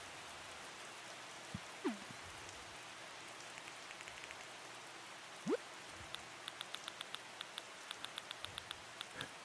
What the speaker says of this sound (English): Oh my gosh, that rain's so beautiful